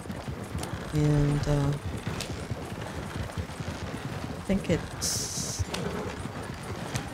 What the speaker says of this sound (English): besides the Suffolk punches that are pulling this wagon